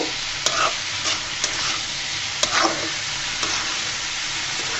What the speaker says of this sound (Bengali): খুব সুন্দর করে আমি নেড়ে কেড়ে নিচ্ছি